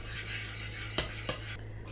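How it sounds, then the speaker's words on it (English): Butter and Swerve sweetener are stirred together in a bowl, with faint scraping and rubbing of a utensil against the dish and a couple of light clinks, quiet and close with no talking. "we're going to just mix that together until it's nice and blended"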